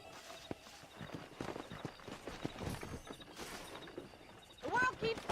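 Horse hooves clip-clopping in the Red Dead Redemption video game, a run of uneven hoof knocks close by, ending with a short burst of louder noise.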